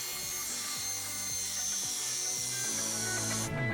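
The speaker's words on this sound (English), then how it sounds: "The sheets needed to be cut to size." Quarter-inch plywood sheets being cut to size inside a cargo trailer conversion, giving a steady, continuous rasping cutting noise with a faint rhythmic rubbing underneath, fairly quiet and uninterrupted, with no speech.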